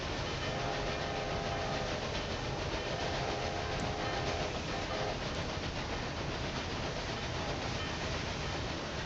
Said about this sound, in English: There's a mail train.